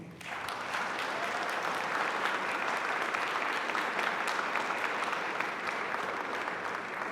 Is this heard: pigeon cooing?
no